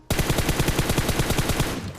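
Rapid automatic gunfire in the video game PUBG Mobile: a loud, close burst of about fifteen evenly spaced shots that stops abruptly, with no talking.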